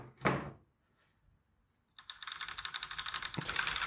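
Typing on a Razer BlackWidow Lite mechanical keyboard with orange switches: a single sharp clack, a pause, then a fast, steady run of close, crisp keystrokes with one heavier thunk midway, and no talking.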